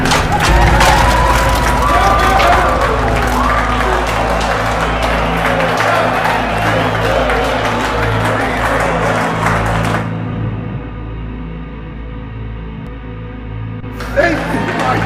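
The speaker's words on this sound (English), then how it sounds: "Give a big round of applause for Mr. X." Crowd applause and cheering fill a stage show in the VR video game Retropolis 2. The dense clapping runs loud for about ten seconds and then drops away, with a voice speaking over it.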